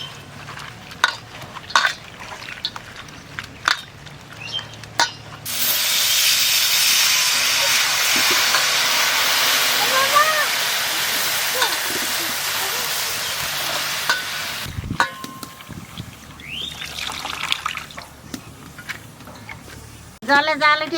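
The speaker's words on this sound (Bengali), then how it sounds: "জলে জাল উঠে গেছে" Water coming to a boil in a pot with greens: a loud, continuous hiss of steam rises for about ten seconds in the middle, framed by clattering stirring and kitchen handling noises before and after.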